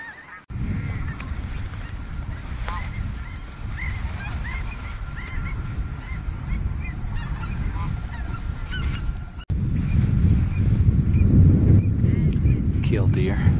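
A flock of Ross's geese honks at a California wetland, many overlapping nasal calls going on steadily over a low outdoor rumble, moderately loud, while a person talks over part of it.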